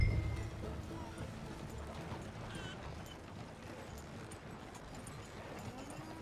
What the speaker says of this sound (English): Just pull the coach into the barn there.